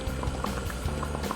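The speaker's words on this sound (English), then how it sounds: "I will put it into my boiling water" Water boiling steadily in a pot while carrots are cooked for homemade carrot oil, a dense continuous bubbling and gurgling, close and even throughout.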